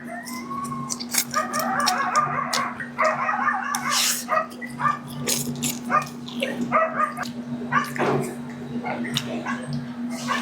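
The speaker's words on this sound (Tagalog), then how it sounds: "Ang ingay ng mga aso eh." Dogs bark and whimper in irregular bursts while a rooster crows and chickens cluck nearby, all over a steady hum, with a few brief voices mixed in.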